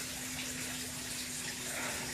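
Water pours steadily into a new aquaponics fish tank in a polytunnel, a continuous close rushing hiss with a low constant hum underneath and no talking.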